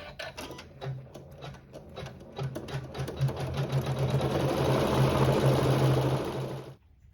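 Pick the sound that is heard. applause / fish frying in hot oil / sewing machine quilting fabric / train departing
sewing machine quilting fabric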